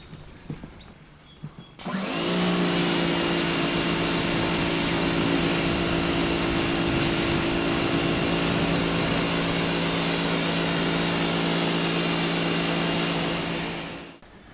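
Pressurized water spraying steadily onto a motorcycle to rinse off Atomic Top Coat Hydro Shock, a loud continuous hiss that starts abruptly after a quiet moment, runs unbroken for about twelve seconds, then cuts off.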